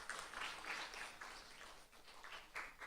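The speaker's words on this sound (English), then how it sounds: "Can we get a round of applause for the Prof." Audience applause for a conference speaker at a design event, a faint, steady patter of clapping from a modest crowd lasting a few seconds, with no talk over it.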